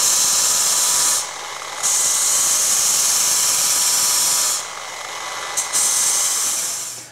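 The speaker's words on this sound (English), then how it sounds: "Now let's turn your buffer on." A car polishing buffer is switched on and runs with a steady high-pitched whine, briefly dropping off twice and spinning back up, loud and close with no talk.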